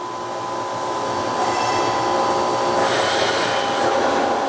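A Walter cutting tool plunges straight into metal and through cross-hole interruptions on a machine, producing a loud, steady rushing whine with a grinding hiss that slowly builds over several seconds, with no speech.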